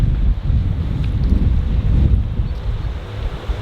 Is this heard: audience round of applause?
no